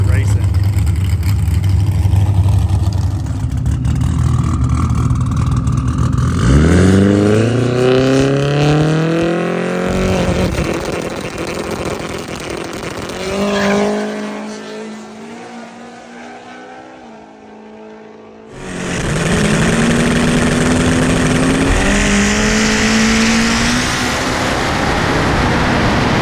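Race cars at a no-prep drag race at Erie, loud engines roaring and revving in rising gear sweeps, dropping away briefly before another close, loud run.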